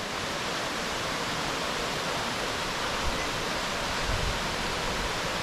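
Ssangyong waterfall on Seoraksan pours in a continuous, loud, even roar of falling water that fills the whole stretch and is never broken by voices.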